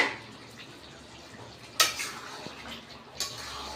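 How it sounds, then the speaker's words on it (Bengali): A lid lifted off a pan of egg and shutki dried-fish curry, two sharp metallic clanks close by against a quiet background, with a faint drip-like tick between them. "ঢাকাটা তুলে নেব।"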